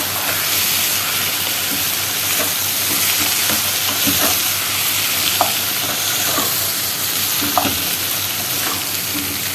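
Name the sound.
sautéing koshari ingredients together in a pan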